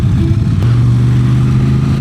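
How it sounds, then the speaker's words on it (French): Motorcycles ride past on a country road near Essonne, their engines a steady loud mid-pitched drone close by, with a broad rumble and no talk over it. "Oh, d'autres motards."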